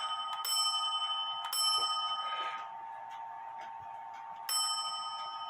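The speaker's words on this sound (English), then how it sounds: "Somebody added this bell right here." A bell fitted to a modified Black Forest Biedermeier box clock from around 1870/80 with a wooden plate rings three times, close and clear, each strike leaving a bright metallic ring that fades slowly.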